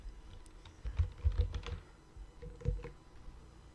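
Bursts of typing on a computer keyboard, quick irregular key clicks clustered in two flurries with short pauses, close and fairly quiet, no voices.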